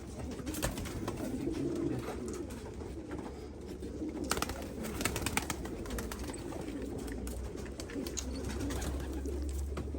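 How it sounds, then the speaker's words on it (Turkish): Pigeons cooing in a loft of showy, high-quality birds: low, soft, repeated coos run steadily underneath, close by, mixed with rustling and a few sharp clicks and knocks. "Kuşlar gerçekten kaliteli, gerçekten gösterişli."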